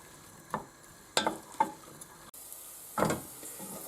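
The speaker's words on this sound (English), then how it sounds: "Place the onion in the pan together with the garlic and cook it gently until it's soft." Onion and garlic cooking gently in a pan, with a soft continuous sizzle broken by a few short stirring scrapes and knocks, close and fairly quiet.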